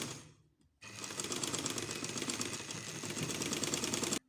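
A sewing machine runs a line of stitching on a baby frock, starting after a brief quiet moment and then going on as a fast, steady, close mechanical chatter until the clip ends.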